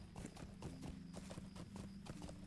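Steady clip-clop of horse hooves in a video game, a quick, even rhythm, close and fairly loud, with a low background hum and no talking.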